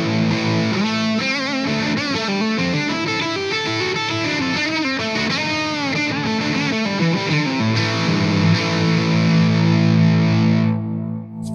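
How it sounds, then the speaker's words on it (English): An electric guitar played through an EWS Brute Drive overdrive pedal gives a thick, mid-heavy, Marshall-like distorted tone, with sustained chords and riffs ringing loudly and continuously before a sudden cutoff at the end. "it's got kind of that Marshall sound to it, you know, it's a nice big overdrive."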